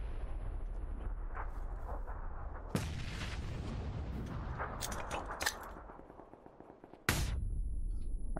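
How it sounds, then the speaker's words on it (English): Grenade blasts in the battle game PUBG, played on Xbox One X: several loud, sharp explosive bangs with long rumbling tails, the biggest near 2.7 and 7.1 seconds, over constant low battle noise. "Are you just in the smoke throwing fucking grenades at us, bro?"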